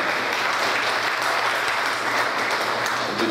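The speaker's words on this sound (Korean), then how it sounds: "박수로 축하해 주시기 바랍니다" Sustained crowd applause at a Korean community's 68th Liberation Day ceremony in Atlanta after an award presentation, a thick, even roar of many hands clapping throughout.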